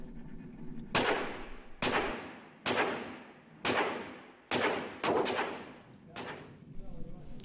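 Rapid double-tap shots from a P10 pistol at a shooting range, seven sharp loud reports in close pairs and singles with ringing decay, each shot stark against a quiet background.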